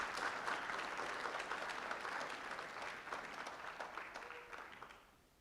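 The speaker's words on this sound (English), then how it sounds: "So let's please give a quick round of applause to all our panelists." Audience at an Ontario Sikh students' panel event applauding the panelists, a dense, fairly distant round of clapping that holds steady for about five seconds and then fades out.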